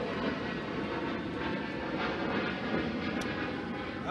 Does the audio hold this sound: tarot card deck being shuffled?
no